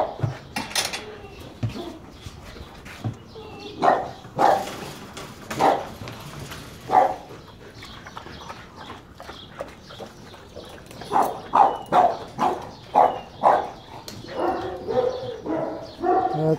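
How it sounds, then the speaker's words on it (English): A dog barking repeatedly in short sharp bursts, some single and some in quick clusters, at moderate distance with scuffling and background noise between barks. "Notice how this guy's barking at him."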